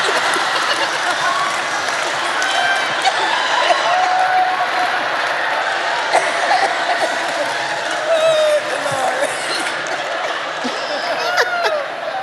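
A small group claps steadily through the whole stretch during a casual podcast taping, applause mixed with chuckles and murmured voices in the room.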